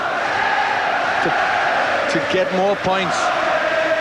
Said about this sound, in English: And listen to the crowd, unbelievable.